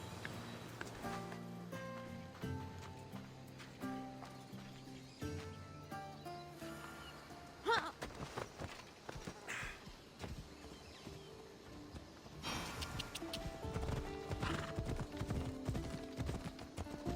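Horse hooves clip-clop at a steady walking rhythm during a ride on Naxos in Assassin's Creed Odyssey, moderately close and soft, with light rustling and game music underneath.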